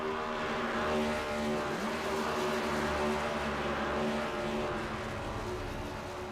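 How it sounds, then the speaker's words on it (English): Sustained engine drone of a race car in a sim racing game at Las Vegas, steady and loud for several seconds, with harmonic engine tones and a faint tire-squeal edge suggesting celebratory burnouts on the front stretch. "Had to cool the motor down for some more burnouts"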